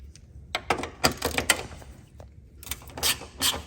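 Close mechanical clicks and ratcheting taps come from loosening the 10mm headlight mounting bolts on a 2007 Subaru Forester, in short bursts with pauses between and no talking.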